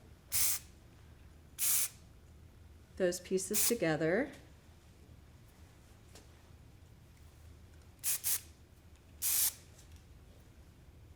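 Several short, sharp bursts of aerosol hairspray hiss close by, spaced apart, with a brief stretch of talking in the middle.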